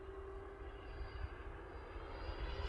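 A Freewing Venom 90mm EDF radio-controlled jet flies past as a faint, distant, steady ducted-fan whine with a sustained tonal hum.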